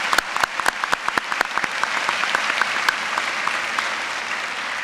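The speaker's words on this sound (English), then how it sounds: "Please join me in giving these officials a round of applause." Applause from the audience at a 2014 School of Public Health commencement ceremony, a steady wash of many hands clapping with sharp individual claps on top, sustained at an even level throughout.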